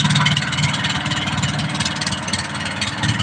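A boat engine runs steadily at close range on a low-water river at Jaflong, a loud continuous mechanical drone with a rough, throbbing texture and no pauses.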